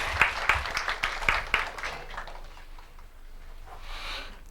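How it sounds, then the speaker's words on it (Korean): Audience applause at a job fair career talk, a burst of clapping from a crowd that fades out over a few seconds, with a brief murmur near the end. "박수 부탁드리겠습니다."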